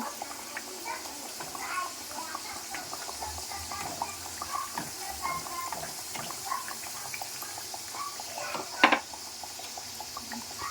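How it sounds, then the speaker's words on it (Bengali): Chicken mughlai fries in hot oil over low heat with a faint, steady sizzle and bubbling. A brief clatter of utensils sounds near the end. "সেই জন্য এটা এবার হিট কমিয়ে আমরা ভাজবো"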